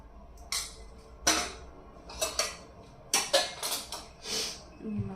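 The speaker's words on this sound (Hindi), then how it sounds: "और इसमें थोड़ा सा प्याज काटूंगी" A knife chops onion in a home kitchen for a rice and chickpea (chole) mix, making several irregular, sharp knocks and clatters on a hard surface, close and fairly loud, spaced unevenly with short pauses.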